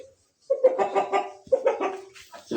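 A hen clucks close by in a few short, throaty bursts, pausing briefly between them.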